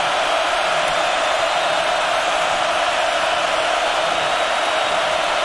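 Football stadium crowd at Oregon during a 2010 game against Stanford, a massive steady roar of noise filling the whole stretch without letup, loud and wash-like.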